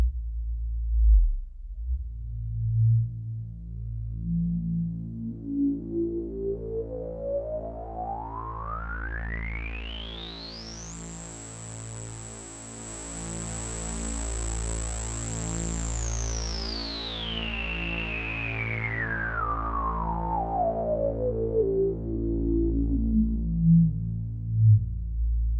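A resonant, ringing synth tone from an Avalon Harmonics Puff stereo multimode filter module whose filter sweeps slowly up to a high whistling peak and back down, with a pulsing low hum underneath.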